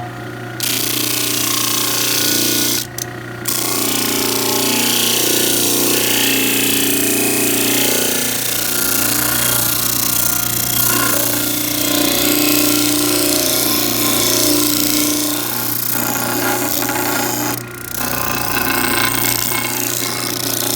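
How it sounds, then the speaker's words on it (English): A disc sander grinds steadily against a wooden slingshot in a workshop, a loud, continuous abrasive whir with only brief dips as the piece is repositioned. "Go ahead and clean this up on the disc sander."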